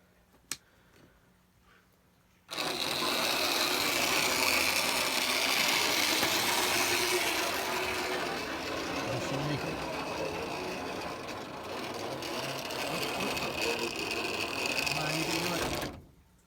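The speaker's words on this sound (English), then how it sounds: "I don't know if the engine will make it all the way around" An early model train engine runs on a slightly warped track as a continuous mechanical whir with a fine rapid ticking rattle. It starts abruptly, holds steady for about thirteen seconds, dips a little midway, then cuts off.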